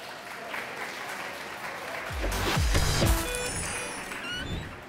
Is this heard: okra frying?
no